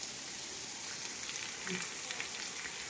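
Steady rain pours in Porbandar, a dense, even hiss of drops on surfaces that holds at the same level throughout with no pauses, a few brief faint higher ticks, and no voices.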